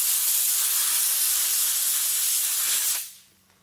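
A steam cleaner used on a car interior gives a loud, steady hiss, close and alone, that cuts off abruptly near the end.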